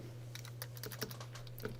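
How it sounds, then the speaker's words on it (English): Typing on a computer keyboard during a C++ programming lesson, a quick irregular run of light key clicks, close and faint, over a steady low electrical hum. "I could go in here and type"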